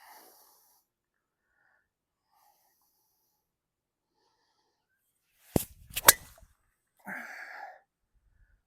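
A golf driver strikes a ball off the tee on a course, one sharp crack followed by a short rattle, then a brief breathy sound amid otherwise near silence outdoors.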